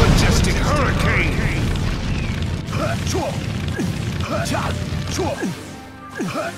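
Fire-style majestic hurricane attack in a video game, a busy stretch of crashing, booming impacts and whooshing swirls with rattling mechanical clatter, loud and continuous, with voices talking over parts of it.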